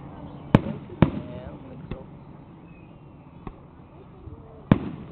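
Fourth of July fireworks in the Webkinz video game, with a few sharp cracks and pops spaced over several seconds, heard under a low murmur of background sound.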